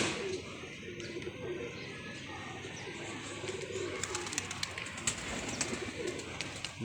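Pigeons at a pigeon club cooing in low throaty bursts, with scattered chirps and some sharper flutter-like clicks toward the end, fairly close amid a light outdoor background.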